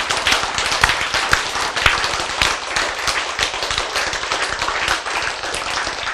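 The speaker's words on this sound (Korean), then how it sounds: "이 사람 박수 치는 거 보니까" Hands clap rapidly and loudly in a dense, continuous burst of sharp close slaps, with no talk over them.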